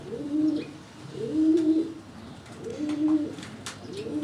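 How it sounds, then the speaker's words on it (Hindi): A pigeon coos in a slow, repeating pattern, four soft throaty calls close by with brief pauses between them. "ये मेरे घर का जो है ना रामपुरी कबूतर है"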